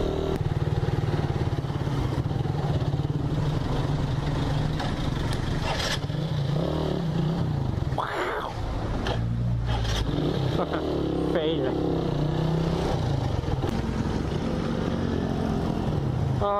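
A Suzuki Raider 150 motorcycle runs on a road ride, its engine droning steadily up close amid wind and traffic noise, with a brief rise near the middle and talk over it throughout.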